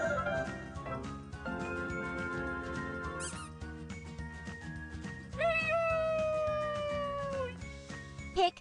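A cat meows over a bright, busy children's alphabet song with steady music throughout; a rising tonal call near the middle stands out above the backing track.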